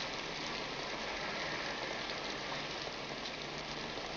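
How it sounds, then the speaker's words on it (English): Heavy rain pours down steadily, a dense, constant hiss of drops hitting a surface with no pauses, close and loud throughout. "It's raining pretty hard."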